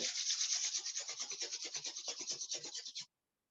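Palms rubbed briskly together in a pranayama breathing session, a steady rapid rasping friction with dense strokes for about three seconds, close and fairly quiet, then stopping abruptly into silence.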